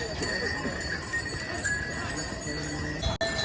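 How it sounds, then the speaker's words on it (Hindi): Horses on the mountain trail from Gaurikund to Kedarnath, with clip-clopping hooves and faint jingling bells close by, under steady talk and outdoor bustle. "बेल्स की आवाज़ सुनिए।"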